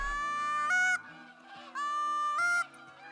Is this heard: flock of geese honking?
yes